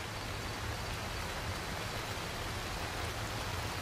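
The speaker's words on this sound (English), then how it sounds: "Sounds like the rain is letting." Steady rain falls in the survival video game H1Z1 as an even, unbroken hiss of drops that stays at the same level throughout.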